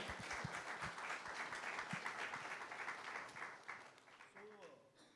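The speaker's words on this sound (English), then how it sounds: "fantabulous applause to all the parents here" Parents and audience at a kids' summit applaud, a dense spread of clapping heard fairly faintly that thins out toward the end as a voice begins to speak.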